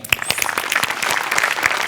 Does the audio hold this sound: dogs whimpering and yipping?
no